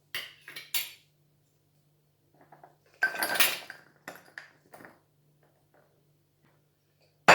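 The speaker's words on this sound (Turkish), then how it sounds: "Şimdi üzerine kalan vişneleri ekliyorum" Sour cherries being added to a container for liqueur: scattered short clatters and clinks of spoon and vessel, with a rushing burst in the middle and quiet gaps between.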